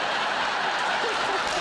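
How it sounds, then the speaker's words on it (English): Studio audience applause at a Christmas comedy panel show, a steady broadband wash of clapping with some light laughter mixed in, moderately loud and continuous for a brief stretch. "Don't applaud that"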